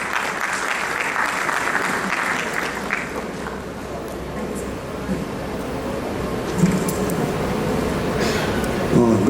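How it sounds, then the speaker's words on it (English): Audience at a government panel on Punjab's startup ecosystem breaks into sustained, loud applause welcoming a speaker to the stage, steady clapping filling the room for several seconds. "Let's please welcome Shri Dilip Kumar with a loud round of applause."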